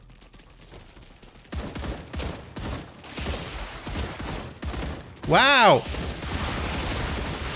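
Gunfire in the StarRupture video game crackles in rapid bursts and volleys, with a brief rising-and-falling whistling sweep midway through; a voice exclaims over the shooting.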